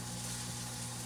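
Venison steak and corn cooking in a pan give a steady, even sizzle throughout, with a brief louder clatter right at the end.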